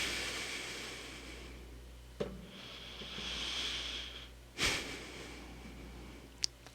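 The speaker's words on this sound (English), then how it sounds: "Sorry for the heavy breathing" Heavy breathing close to the mic is quiet and uneven, with three sharper breathy bursts standing out against a low background.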